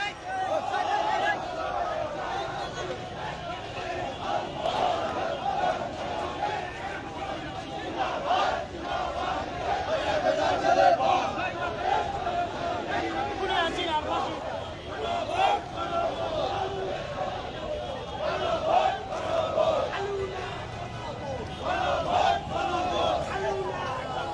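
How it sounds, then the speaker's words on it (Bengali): A Jamaat stick procession marches through Dhaka, its crowd chanting slogans in loud, rhythmic waves of massed voices that surge and ebb continuously, with a constant street roar underneath. "স্লোগান দিচ্ছে লীগ ধর জেলে ভর।"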